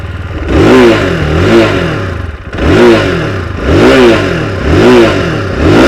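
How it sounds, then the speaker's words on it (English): A UM Renegade motorcycle on its stock exhaust revs up loudly several times, the engine note swelling and dropping back to a rumbling idle between blips, close and with no talk. "So here's what the stock exhaust sounds like."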